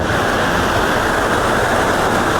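A small waterfall at Lan Sang National Park in Tak, pouring into a deep pool: a dense, loud, continuous rushing roar of falling water, close and unbroken.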